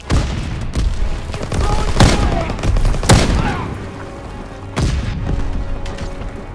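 Volleys of gunfire aimed at infantry near a tank in a video game battle with a cavalry division, with loud sharp cracks over a dense, continuous rattle of distant shooting.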